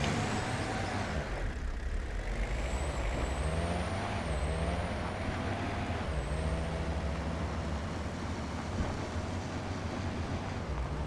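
A vehicle engine idles and drives in the hunting game Way of the Hunter, producing a steady, close low rumble with faint whistling tones that continues unbroken for about eleven seconds, with no voices.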